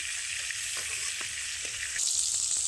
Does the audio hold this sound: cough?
no